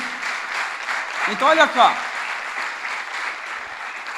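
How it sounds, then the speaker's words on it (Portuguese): Church congregation applauding together, a continuous wash of clapping throughout while someone speaks briefly over it. "Vamos aplaudir o Senhor aqui?"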